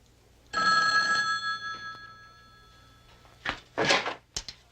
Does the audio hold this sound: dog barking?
no